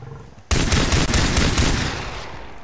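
Rapid gunfire from a weapon in the video game Far Cry 3, aimed at a bear: a loud, dense burst of shots that begins abruptly and keeps going, tapering slightly toward the end, with no talk over it.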